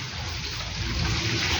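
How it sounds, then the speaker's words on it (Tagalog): Heavy rain pours steadily with floodwater rushing, a dense continuous wash of water with no pauses, loud and close. "Ayan guys, umuulan ng malakas."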